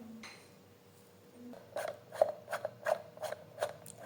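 A part is screwed onto a toilet cistern during a repair: a string of close, rhythmic ratcheting clicks and plastic creaks from threading, about seven bursts over a couple of seconds, with no talking.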